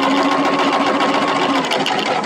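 A sewing machine runs steadily at normal stitch length along the short edge of a sleeve cuff seam, a continuous close whirring hum with no talk.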